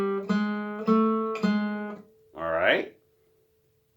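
A guitar plays a short measure that includes a sharpened G: three plucked, ringing notes in steady succession, then a brief voiced sound before the last note fades out.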